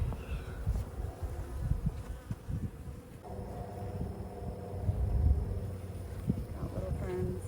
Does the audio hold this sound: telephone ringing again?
no